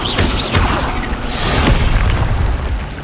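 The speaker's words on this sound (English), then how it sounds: "Incendio!" An Incendio fire spell cast in Hogwarts Legacy bursts out as a booming, crackling blast, followed by a rumbling rush of fire that carries on for a few seconds, loud and close.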